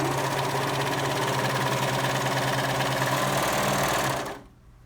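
A serger sewing machine runs at steady speed while cutting and threading fabric, producing a loud, continuous mechanical whirring hum that stops abruptly near the end.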